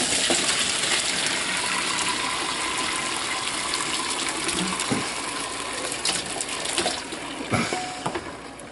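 Turkey broth gushes out of a pot and through a colander into another pot, a loud, continuous pouring rush that thins out toward the end, with a few clinks and knocks as it drains.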